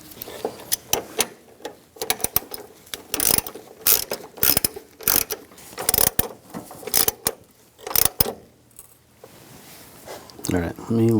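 Ratchet wrench tightening the lower door hinge bolts on a 2011-2018 Ram 1500 pickup, a series of quick close clicking bursts with short pauses between strokes, some background voice.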